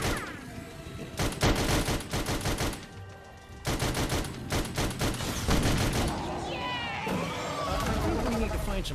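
Rapid bursts of gunfire come from the video game Sam & Max: This Time It's Virtual on Oculus Quest 2. Loud, dense volleys of shots repeat in several bursts, with short pauses between them and character voices talking over part of the action.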